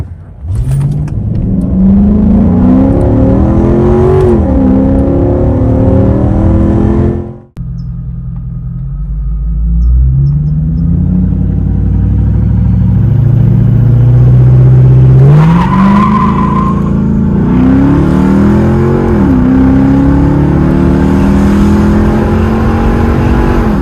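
Early Chrysler 300C with the Hemi V8 and 5-speed automatic launching hard, loud engine revving up through gears with squealing tires, a brief cut, then another roaring acceleration run with rising tire squeal and rumble.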